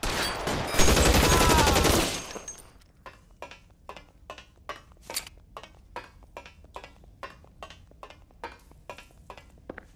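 Gunfire in the video game L.A. Noire: a loud, dense burst of shooting up front, then a steady run of sharp, evenly spaced shots that continue at moderate volume, with no one talking.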